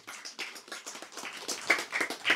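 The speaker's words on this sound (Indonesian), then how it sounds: "Tepuk tangan untuk Bang Bimo." A small audience at an Indonesian religious talk claps for Bang Bimo, a brief uneven patter of hand claps that rises and falls, close and moderately loud.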